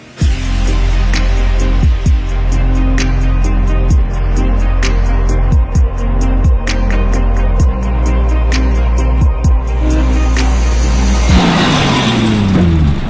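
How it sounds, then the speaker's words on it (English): A car repeatedly speeds up and brakes hard during 60-0 stopping tests with new sport brakes, loud engine revs rising through gear changes several times, followed by a rushing tyre and wind noise at the end. "So we ran the 60-0 test over and over and over to put as much heat and stress on our new brakes"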